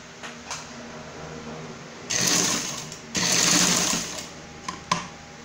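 A sewing machine stitches a paper filter holder in two loud, steady bursts of motor whir. Quieter handling clicks come before and after the bursts.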